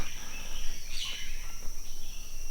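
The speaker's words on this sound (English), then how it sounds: "all you hear will be tropical birds and sometimes pigs poking around in between the trees" Tropical birds calling in a dense, windless rainforest deep in a valley on Oahu's east side, a steady high whistle-like tone with a brief chirping flourish over soft continuous ambience, fairly faint and distant.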